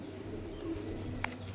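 Pigeons coo softly in a low, continuous murmur, steady throughout, with one brief sharp click near the end; no one speaks.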